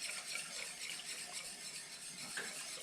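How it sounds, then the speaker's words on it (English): Head cheese mixture being stirred in a pot, a soft steady scraping and swishing with faint bubbling, quiet and continuous without talk. "Making sure to stir the whole time."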